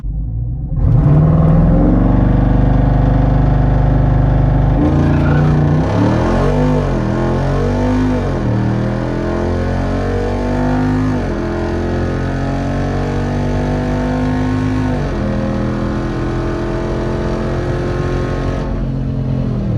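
A Jeep Wrangler Rubicon 392 V8 drag racing a BMW 540i at a drag strip: a loud, deep engine rumble that revs hard, then climbs through several gear shifts under full acceleration, close and sustained, with no talk.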